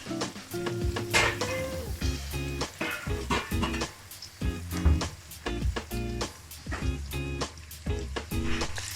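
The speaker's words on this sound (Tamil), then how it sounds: "ரெட் அண்ட் க்ரீன் பெப்பரையும் வெங்காயத்தையும் ஒரு ஹாஃப் குக்கில் எடுக்க போகிறேன்." Red and green peppers with onions, half-cooked for chilli paneer, sizzle in a pan while a utensil repeatedly clinks and scrapes against the metal, a busy close-up kitchen texture of stirring and frying.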